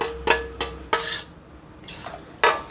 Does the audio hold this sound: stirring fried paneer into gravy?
yes